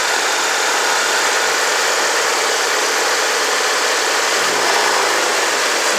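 Car engine of a supposedly indestructible motor, running close to the microphone with a steady loud hum and a faint knocking fault underneath, slight change in tone near the end.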